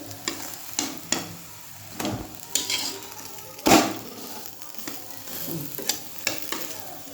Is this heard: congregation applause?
no